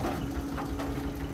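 A turbocharged Toyota 13B engine being test-run in a six-ton wooden boat, giving a brief, steady low droning hum at an even level with no other sounds.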